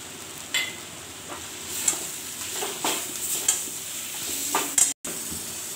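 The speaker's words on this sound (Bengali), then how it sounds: "এবার আমি ভালো করে মশলাটাকে ভেজে নেব" Garlic and ground dried red chili paste frying in a pan for ghugni, a soft steady sizzle punctuated by occasional scraping strokes of a spatula, close but fairly quiet, cutting off abruptly near the end.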